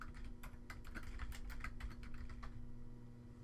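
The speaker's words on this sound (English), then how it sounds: "type your user ID and password in the respective" Someone types a user ID and password on a computer keyboard, a quick run of faint, crisp keystrokes over a low steady hum.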